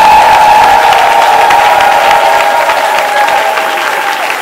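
Church congregation applauding and cheering for Jesus, loud sustained clapping from a large crowd with a steady ringing tone above it, dense and continuous, easing slightly toward the end.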